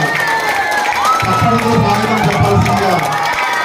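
A crowd at a World Tribal Day event in Pendurthi cheers and shouts loudly, with children's voices and whoops in a dense, continuous roar and some clapping mixed in.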